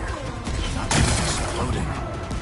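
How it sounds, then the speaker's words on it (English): Rocks blasted apart in Horizon Forbidden West, a sharp burst of explosion and crumbling debris rising out of a busy game backdrop, then settling into rumble with a smaller crack near the end. "Gotta blast away some rocks, so I can expose the power cell."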